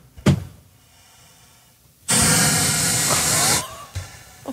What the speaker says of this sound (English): Listen to this sound. This is the Gaboon viper from Africa.